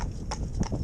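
Hooves of a gypsy cob horse clip-clop steadily at close range, several even hoofbeats over a steady background.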